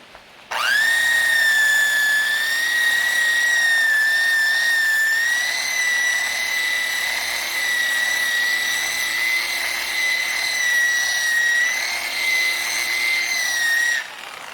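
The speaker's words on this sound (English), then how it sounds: "Let's move on to the more aggressive steel brush wheel." A steel wire brush wheel spinning on a drill, with a loud, steady high-pitched whirring whine that starts abruptly and holds for about thirteen seconds before stopping, with no talk.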